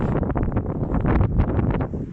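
Wind buffets the microphone in an open cemetery, a continuous rough rumble with gusty surges over about two seconds, with no voices.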